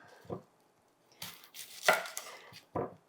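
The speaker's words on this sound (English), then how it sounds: "I am not going to chop up my onion too small" A yellow onion being chopped with a knife on a board: several separate, close chopping strokes spaced unevenly, with quiet gaps between them and no talking.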